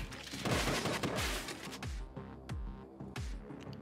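A minigun fires in a retro-style video game, sending out rapid bursts of booming shots that come in repeated dense volleys, loud and close with no talk.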